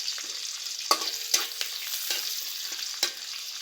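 Chopped onion sizzles while frying in a pan as an egg curry begins, with a steady hiss broken by a few sharp scraping stirs; no one speaks.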